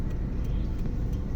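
Dense road traffic on a congested street rumbles steadily nearby, a constant low wash of engines with faint passing swishes and no clear single vehicle.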